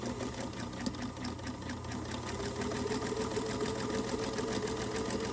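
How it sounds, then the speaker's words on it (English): A sewing machine runs steadily through fabric, its rapid rhythmic stitching hum loud and close throughout, with a faint rise in pace near the end. "I'm going to go ahead and sew this"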